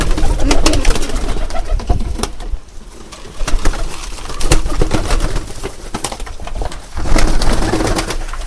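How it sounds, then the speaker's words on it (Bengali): Pigeons cooing while pecking at grit feed of brick particles and eggshell, a busy flock heard up close with steady overlapping coos, rustling and occasional wing flutters. "সবগুলো কবুতর গ্রিট খাবার খাইতেছে।"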